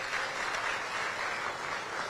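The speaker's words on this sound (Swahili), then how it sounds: "Kwa tuwaongezee makofi mengi sana kwa utayari huo." Audience applause at a Yanga club event, a steady patter of many hands clapping together at moderate distance, sustained without a break and with no one speaking over it.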